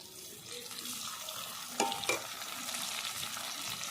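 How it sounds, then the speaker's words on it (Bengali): Chopped onion and two chopped tomatoes frying in oil in a pan: a steady close sizzle with a couple of sharp spatula knocks partway through and soft stirring. "পেঁয়াজ আর টমেটোটা ভালো করে আমি লাল করে কষিয়ে নিচ্ছি"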